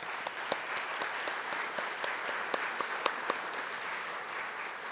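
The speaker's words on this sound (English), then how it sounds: "Give them a round of applause." Steady audience applause for arts coalition members at a state-of-the-arts brunch, a soft, even wash of clapping with a few sharper individual claps standing out near the room.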